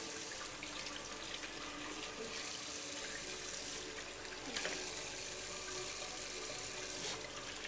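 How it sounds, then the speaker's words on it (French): Water from a grooming hose or tap rinsing shampoo off a dog at a groomer's, a steady loud hissing spray running continuously with small splashing changes as the stream moves over the coat. "nous procédons au rinçage du premier shampoing"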